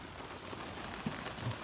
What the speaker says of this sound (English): It's freaking raining out pretty good. I don't know if you guys can hear that.